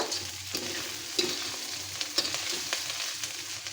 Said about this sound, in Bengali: চান্দা মাছটা কিন্তু আমার মুচমুচে করে লাল লাল করে ভাজা হয়ে গেল